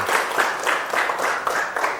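Classroom applause at a nursing academy teaching session, a group clapping in unison with a regular pulsing rhythm of about three beats per second, moderately loud and close, with no voices.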